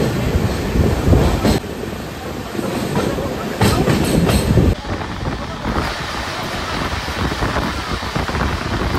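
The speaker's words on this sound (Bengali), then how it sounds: "এই আমাদের ট্রেন পার করছে নিউ ফারাক্কা বা ফারাক্কা ব্যারেজ।" The 13125 Kolkata–Sairang Express crosses the Farakka Barrage with a steady loud rumble and rhythmic clickety-clack of wheels on rails, heard continuously and close from on board.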